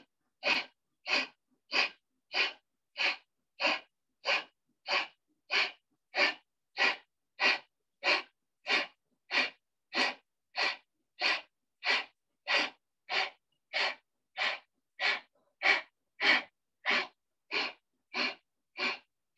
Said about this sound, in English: do Kapalbhati for 30 seconds